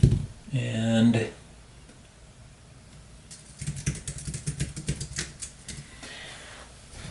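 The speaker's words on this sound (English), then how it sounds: "the typing you were hearing was me typing on my iPad keyboard" Quick, irregular clacking of keys on an iPad keyboard, close and moderately loud, comes in a brisk burst after a short stretch of speech at the start, then continues more lightly.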